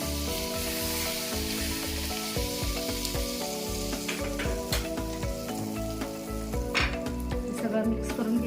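Sweet pumpkin poori dough fries in hot oil with a dense, constant sizzle and bubbling, close and loud, broken by light scraping and stirring clicks.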